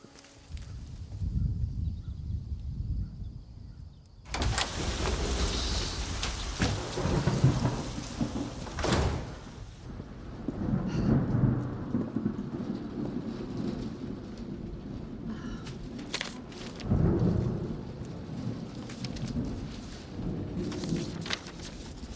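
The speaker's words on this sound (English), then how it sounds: "It's gonna rain." Steady rain with rumbling thunder rolls through a drama scene, a broad wash of downpour punctuated by several loud, deep thunder swells, with no voices.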